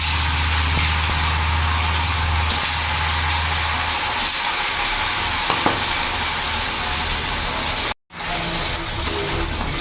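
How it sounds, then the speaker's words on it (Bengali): Silver carp pieces fry in hot oil with a loud, steady, close hiss and crackle that holds throughout, broken by one brief dropout before the sizzle resumes. "তেলটা আমার গরম হয়ে গেছে, এবার একে একে মাছগুলো আমি ছেড়ে দেবো"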